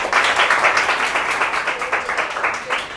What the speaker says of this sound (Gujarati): સિદ્ધિ માટે એક વખત તાળી પાડો